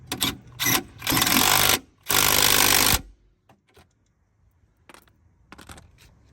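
Ratchet or wrench work tightening a bolt under the hood of a 1998 Oldsmobile Delta 88 with a 3.8 GM engine: several rapid rattling bursts up close, then a quiet gap and a few faint clicks.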